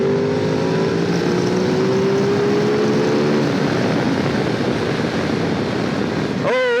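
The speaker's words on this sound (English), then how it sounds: "Oh, this L-twin sings." A 2022 Ducati Desert X L-twin engine pulls hard under riding, a loud continuous drone with rising pitch and a final rev change, heard close over wind rush.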